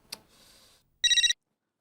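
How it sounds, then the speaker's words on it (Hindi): A telephone rings in an Indian TV comedy scene, with a short electronic trill burst after a click and a softer tone, loud and close with no talking. "उमाताई का फोन?"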